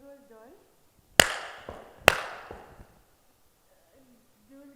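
Two sharp, loud hand claps about a second apart, each ringing briefly in a reverberant hall, with a few words spoken just before and after.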